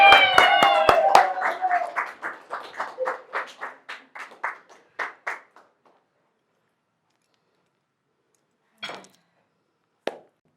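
Sparse applause from an audience in a hall, a handful of claps over a voice at first, then dwindling to separate claps that fade out, with two stray claps after a pause.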